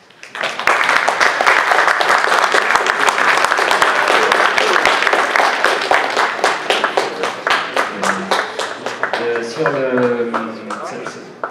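Audience applause at a round-table event on careers in artificial intelligence: dense, steady clapping from a crowd that thins toward the end as a voice begins speaking over the last scattered claps.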